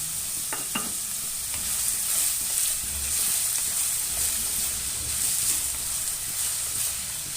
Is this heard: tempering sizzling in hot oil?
yes